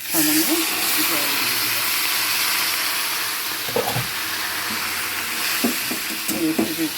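Gobindobhog rice, flattened rice and potatoes cooking together in a pan with a splash of water for a katla fish head dish, a steady hiss and sizzle with a few utensil taps, and a voice talking over it.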